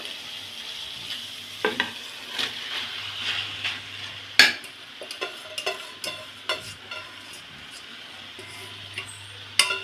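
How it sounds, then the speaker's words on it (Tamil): Cooked rice is stirred through fried garlic and shallots in a pan on low heat, with a soft constant sizzle and repeated sharp clinks and scrapes of the spoon against the metal, without any talk. "இப்போ வந்து சாதத்தை போட்டு நம்ம கிளறிடலாம்"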